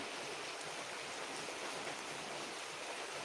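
Continuous heavy rain in Kerala falls in a constant broadband wash, nearby and uniform in level throughout, with no talking.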